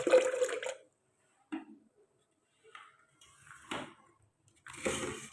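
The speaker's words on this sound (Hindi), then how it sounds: "अब हम फिर इसमें ठंडा पानी डालेंगे थोड़ा सा," Cold water is poured into a cooking pot of cream while homemade butter is made, giving a few short, close splashy bursts separated by quiet gaps.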